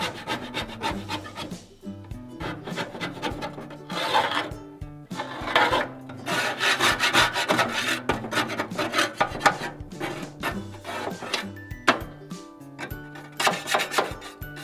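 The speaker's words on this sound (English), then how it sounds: "Just scrape all that junk right into the bottom" Metal scraper dragged over the crusted inside of a Weber Genesis grill barrel, rough rasping strokes in quick uneven bursts, loud and close, with no voices.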